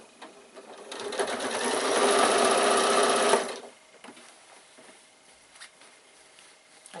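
A sewing machine runs close and steady for about three seconds, stitching down the side of a fabric baby bag, then stops, leaving quiet handling noises.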